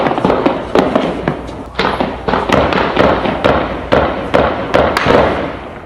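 Rapid gunfire in a favela crossfire between rival drug traffickers: dense, irregular bursts of sharp cracks and thuds repeating for several seconds, loud and close, with no talk.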